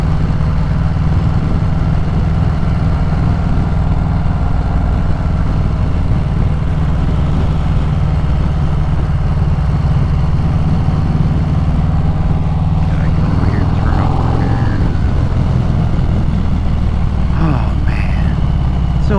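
Harley-Davidson Sport Glide motorcycle engine on a sunset ride, a steady loud low rumble with wind roar throughout and a brief change in tone near the end, no talk.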